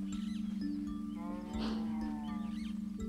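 Minecraft cows lowing on a farm, several drawn-out moos overlapping at close range against steady game background tones, with no talking.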